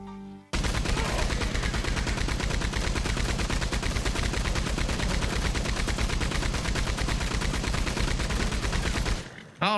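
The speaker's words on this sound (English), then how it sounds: "Just shooting him with a machine gun until there's nothing left." Machine gun firing nonstop in Red Dead Redemption 2, a loud, dense rapid stream of shots running almost the whole time before cutting off abruptly near the end.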